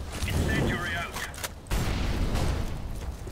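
An incendiary grenade thrown in Counter-Strike, a sharp burst followed by a rushing, crackling whoosh of fire, heard under brief voice chatter and gunfire.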